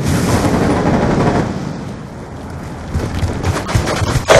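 Video game gunfire in a loud, chaotic battle, with dense bursts of shots and booms that slacken briefly midway, then return in sharper cracks toward the end.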